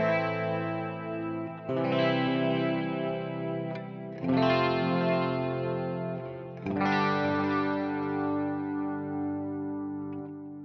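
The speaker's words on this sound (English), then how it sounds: "The next tone in this preset that we only use in the bridge section is the clean chorus sound." A clean electric guitar with chorus from a Marshall Plexi amp model on a Fractal preset, three ringing strummed chords each left to sustain and decay, shimmering and alone.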